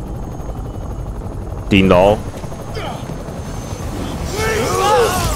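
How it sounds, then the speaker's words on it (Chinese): A helicopter arrives in the Marvel's Spider-Man video game, its rotor thrum running steadily through the scene while a voice shouts briefly over it and game effects sound in the background. "直升机来了。"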